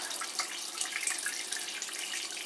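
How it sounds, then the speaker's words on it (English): Homebrew wort, the first runnings, flowing out during lautering as a steady, close trickling and splashing of liquid with a continuous watery hiss. "that's the first runnings now coming out"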